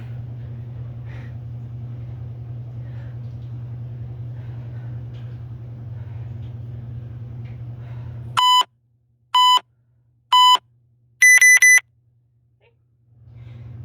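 An electronic workout interval timer gives four sharp, loud beeps, evenly spaced about a second apart with the last one longer, cutting through a steady low background hum.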